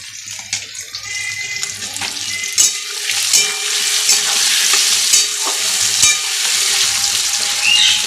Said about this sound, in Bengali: লাল লাল করে ভেজে নেব একটু ভাজা হোক